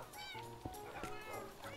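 Cat meowing in a Minecraft Blood Skywars game, several quick, close meows in a short burst.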